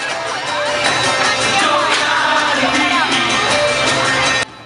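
Audience at the main stage cheering and clapping as the band ends the night, a dense steady roar of crowd noise throughout that cuts off sharply just before the end.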